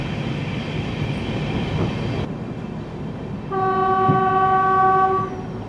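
A WAP-7 electric locomotive hauls the 16159 Tambaram–Mangalore Central express past with a loud, continuous rumble and rattle of coaches, then a long, steady multi-tone horn blast sounds near the end.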